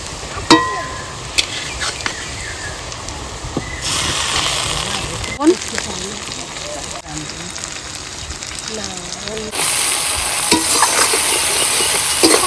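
Onion, ginger, garlic and chili fry in hot oil with a loud, steady sizzle, broken by scraping stirs of a utensil in the pan, and a voice talks over it at times.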